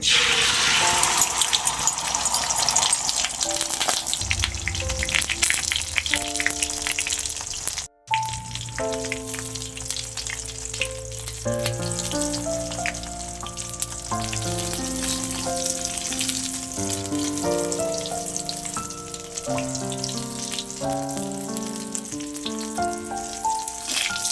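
Loud, continuous frying crackles and hisses as spinach is stir-fried in a pan for the whole stretch, with a melodic tune playing alongside.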